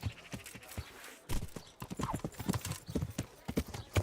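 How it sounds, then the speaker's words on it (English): Horse hooves clip-clopping in Kingdom Come: Deliverance, a close, steady run of sharp hoof knocks on hard ground with a short pause partway through. "Oh, is he jumping on the horse?"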